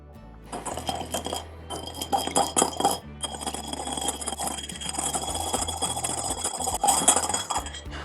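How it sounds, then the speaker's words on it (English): Utensils clink and scrape against a bowl as dressing ingredients for a vegan warm butterbean salad are quickly mixed, a busy run of close metallic taps over a low steady hum with no talking. "I'm just going to add all of the ingredients right into a bowl and give it a quick mix."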